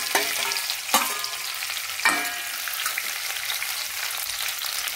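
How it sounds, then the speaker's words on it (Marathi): Ripe jackfruit pieces sizzle and fry in a hot pan for a fasting-day vegetable dish, with a steady close crackle and a few sharper stirring scrapes near the start, no voices. "आता बघा हे थोडं परतलं की आपण हे सगळे गरे यामध्ये घालायचे"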